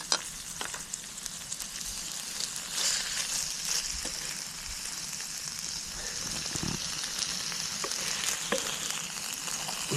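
Food fries in a pan with a steady crackling sizzle and scattered pops close by, holding a fairly even level throughout with occasional louder spits.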